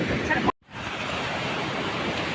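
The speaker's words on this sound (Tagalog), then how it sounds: "Ito ang dagat." Sea waves wash in as a broad, steady roar of surf mixed with wind buffeting the microphone, cut by a brief dropout before the rush resumes evenly.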